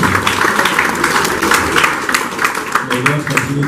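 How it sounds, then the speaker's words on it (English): Guests at a pharmacy's anniversary gathering applaud, a continuous patter of many hands with crowd chatter and voices mixed in underneath. "I just wanted us to give an applause"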